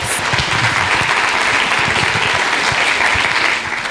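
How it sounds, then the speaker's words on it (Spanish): Sustained audience applause fills a hall at a school talk on autism and the rights of people with disabilities, dense steady clapping held at even loudness for nearly four seconds before tapering slightly at the end. "Le damos un aplauso"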